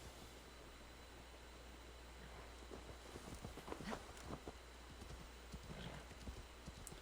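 Hoofbeats of a horse clip-clopping across ground in the video game Assassin's Creed Valhalla, a steady rhythmic trot that grows busier in the second half over a constant low hum.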